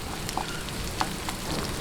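Ginger sautéing in hot oil in a pan for tinolang bangus, a steady close crackling sizzle with a few brighter pops scattered through, no voices.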